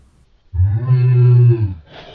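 A person imitates a cow with one sustained, low, voiced moo of about a second, loud and close, rising at the start and fading out with no other talk.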